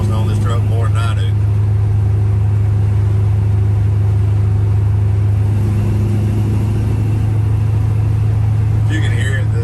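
Steady low drone of a 1970 Chevrolet C10 truck with an LS engine swap and four-speed transmission running on the road, heard from inside the cab under continuous talking.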